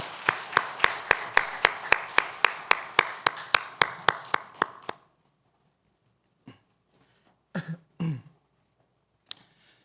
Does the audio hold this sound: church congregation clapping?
yes